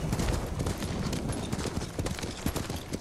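Horse hooves clip-clop steadily at a trot across the ground in the video game Ghost of Tsushima, with a busy rhythmic patter of footfalls continuing throughout at close range and no voices.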